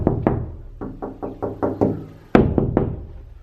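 Knuckles rap on a secret door hidden in a wall, a sharp series of about a dozen close, hollow knocks in uneven bursts, the last few louder after a short pause.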